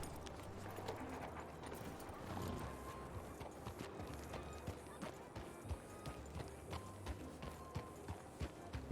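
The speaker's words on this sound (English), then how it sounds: "That's a Tennessee Walker." Hooves of a Tennessee Walker horse clip-clop steadily in a video game, a quick even gait with faint ambient chirps, and someone talks lightly over it.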